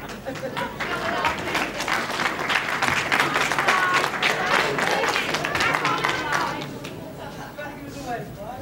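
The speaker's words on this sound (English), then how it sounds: "Very much deserved applause" Crowd applause fills an arena after a 1976 UK professional wrestling bout, steady and sustained with scattered clapping and crowd noise, thinning slightly toward the end.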